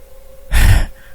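A single heavy, breathy exhale or gasp swells loudly for about a third of a second, close and alone, then fades.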